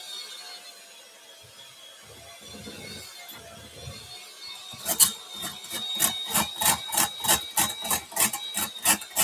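An electric mixer beats butter and sugar for a Jamaican black cake in a nearby room, first a faint low whir, then a louder rhythmic pulsing whine that repeats steadily through the second half.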